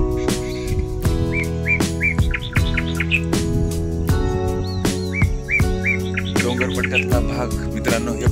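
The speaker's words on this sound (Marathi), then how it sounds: "हे बघा मोरांचा आवाज किती सुंदर आहे" Peacocks call repeatedly from a hilly roadside area, their short, bright cries recurring in clusters over the steady drone of an engine.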